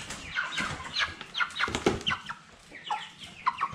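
A broiler chicken clucks while being weighed on a poultry farm, giving a string of short, fairly quiet clucks and squawks close by, with no talk over them.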